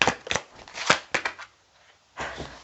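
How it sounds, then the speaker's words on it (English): Tarot cards shuffled by hand in quick riffling bursts, close and crisp, with a brief pause before a final flurry of shuffling. "I just didn't want the shuffling to be the first thing that you guys could hear."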